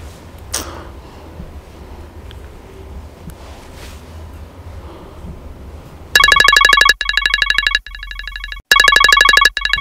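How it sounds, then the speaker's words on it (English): A phone in a Nigerian movie scene starts ringing loudly after several seconds of quiet room tone, sounding a shrill electronic ring in repeated bursts with short gaps between them. "That's my phone."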